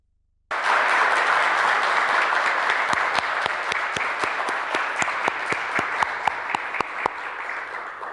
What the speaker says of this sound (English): I really wish you were here in person to get the round of applause that you deserve